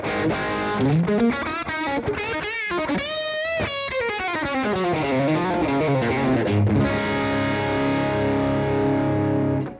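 Distorted electric guitar played through a Torpedo CAB M with 6L6 power amp valve simulation and reverb, a continuous melodic line of bending, sustained notes that rings out loud and alone for about ten seconds.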